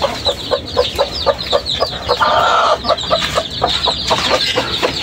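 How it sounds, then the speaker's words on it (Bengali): A hen with her chicks clucks in short, regular bursts close by, with faint peeping and a louder drawn-out call in the middle. "এই হলো আমার মুরগিটা"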